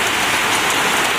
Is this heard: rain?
yes